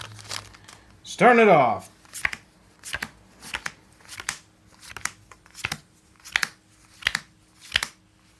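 A Modern Masters 2017 trading card booster pack is torn open with a crinkly foil rip, then cards are flicked one by one in a steady rhythm, up close, while a voice talks briefly.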